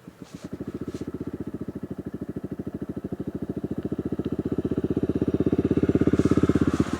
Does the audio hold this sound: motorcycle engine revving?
yes